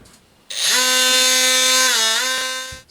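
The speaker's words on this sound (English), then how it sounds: "I'm going to give it a real light hit with a sander, get down to grain again on the wood." A power sander runs in a brief close burst, lightly sanding a wooden hickory knife handle, with a high buzzing whine that starts abruptly, holds steady, dips slightly and then stops.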